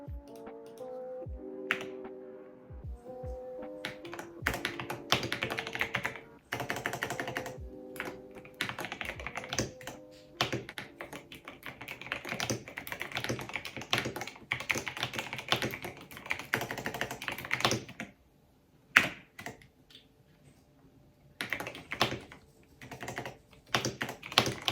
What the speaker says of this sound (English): let's try to type some documents with this, and you can hear the sounds